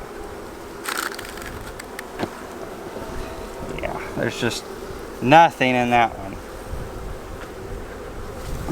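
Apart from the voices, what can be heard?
honey bees buzzing around a hive frame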